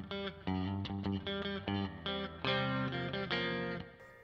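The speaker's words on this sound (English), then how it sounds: "this is a middle position without the series, so just normal Telecaster middle position" A Fender Professional II Telecaster electric guitar in the normal middle pickup position plays a run of distorted chords and notes with effects, a clear rhythmic strummed pattern heard alone.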